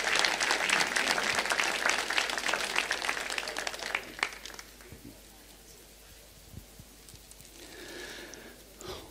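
Audience applause at a Swedish business award ceremony, dense clapping loud at first then thinning and fading to scattered claps with murmuring after about four seconds.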